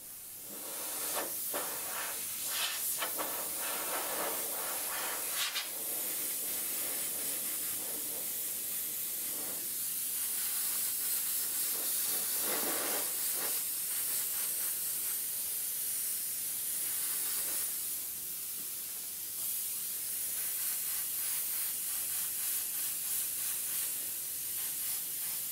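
Continuous airspray hiss from an airbrush laying down real-fire style flames, steady and close throughout, with brief pauses and bursts as the trigger is worked.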